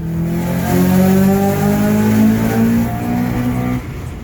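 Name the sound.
Honda Accord CL9 engine revving near 8,000 RPM redline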